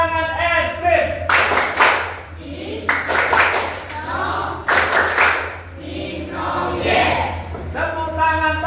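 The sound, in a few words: ice cream clap, rhythmic group hand clapping in class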